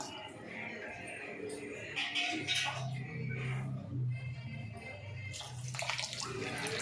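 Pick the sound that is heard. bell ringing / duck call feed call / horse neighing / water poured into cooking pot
water poured into cooking pot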